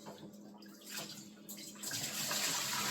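Kitchen sink tap water runs steadily while raw chicken is washed, a rushing splash that swells louder toward the end, heard on its own without talk.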